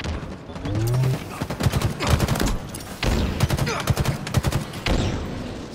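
Gunfire in the Halo Infinite video game: rapid bursts of automatic weapon fire come in several close, loud volleys separated by short pauses.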